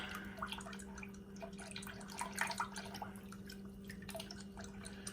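A brass instrument valve is rinsed under lukewarm water at a sink, giving a faint, irregular trickle with scattered drips and splashes over a low steady hum.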